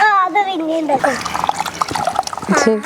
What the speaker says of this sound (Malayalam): ഇത് നന്നായിട്ട് ഇങ്ങനെ പിഴിഞ്ഞെടുത്തിട്ട് നമ്മൾ ഈ പാത്രത്തിലേക്ക് ഇടുവാണ്